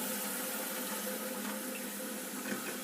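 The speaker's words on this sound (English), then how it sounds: "So turn back the valve to get the water back in." A Caroma Stylus toilet cistern refills after its valve is turned back on, giving a steady, even hiss of rushing water that holds at one level for the whole short stretch, with no talk.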